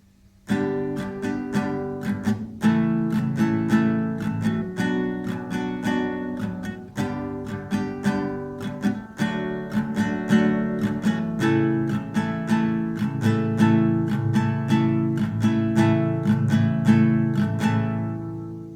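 Acoustic guitar strumming chords in a steady rhythm, bright and close, with no voices, changing chords every few seconds.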